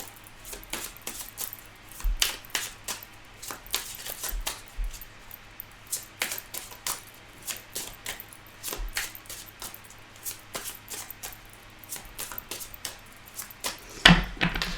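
Tarot cards are shuffled close up, giving a steady stream of soft, quick riffling taps and slaps that continue for the whole stretch with no talking.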